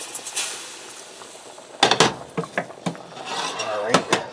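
Spoon stirring flour into potato soup in a pot, giving a run of close clinks and scrapes against the pot that grow busier toward the end.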